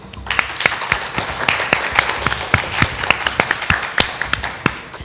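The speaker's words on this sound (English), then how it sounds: "a round of applause for them" A studio audience at a school quiz competition applauds a team, with sharp, distinct claps from a modest group in an uneven rhythm over a soft bed of general clapping.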